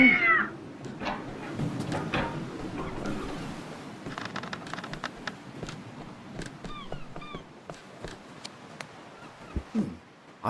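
A cat in the Tintin Cigars of the Pharaoh game meows a few short times midway, faint against a low ambient game backdrop with scattered soft clicks and no talk.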